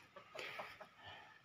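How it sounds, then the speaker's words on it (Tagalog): Chickens cluck softly at a distance in a few short, scattered calls over a faint outdoor background, with no talking. "Ito na mga manok dito."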